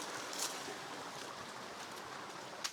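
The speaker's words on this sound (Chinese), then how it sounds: "这山泉水呀，潺潺的流水声" A mountain spring stream near a remote Hunan hillside village babbles softly, a faint and even rush of water running on with no break.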